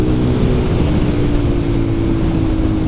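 A Honda CG motorcycle engine runs loud and close as the throttle opens, a steady buzzing drone with rough, gusty noise over it, no voices.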